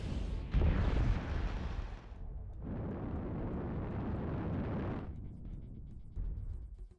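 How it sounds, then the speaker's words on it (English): Triple PPC energy weapons firing in a mech combat video game, heard as heavy, loud booming blasts that fill the clip in sustained waves with a short lull between bursts, with no talking. "He's shooting all 3 PPCs"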